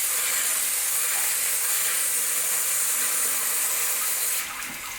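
Hot metal engine parts, including a bent bolt, sizzle in water, a steady loud broadband hiss holding for several seconds before easing off at the end.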